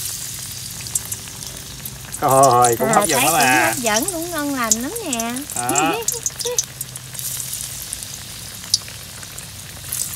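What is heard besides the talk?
breadfruit frying in oil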